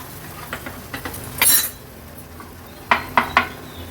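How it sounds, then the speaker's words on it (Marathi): Metal ladle and spoon clatter against a steel pot as hot tadka tempering is poured into dal and stirred, with a bright splashy burst followed by three sharp scraping clinks. "आता हा तडका आपण ह्या डाळीला देणार आहोत व्यवस्थित मिक्स करून घेऊया"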